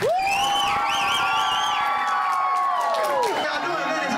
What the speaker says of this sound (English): I want you to make the loudest applause that you can